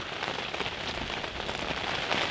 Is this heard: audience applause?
no